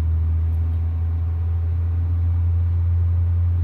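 A car engine holds a steady speed of about 2000 RPM with the accelerator pressed, giving a constant low hum that stays close and even for the whole stretch with no talking.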